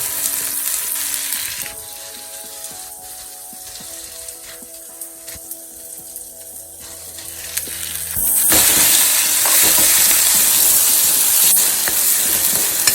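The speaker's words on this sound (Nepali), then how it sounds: "मसाला पनि अनि पिठोमा भुटेको मसलालाई पनि तेलमा भुटेपछि चाहिँ मसला पनि पाक्छ।" Masala spices fry in oil with softened tomato and flour. Quieter scraping and stirring with a low hum gives way, about two-thirds in, to a sudden loud, dense sizzle that continues close up to the end, with no voices.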